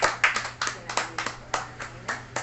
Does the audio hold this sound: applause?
yes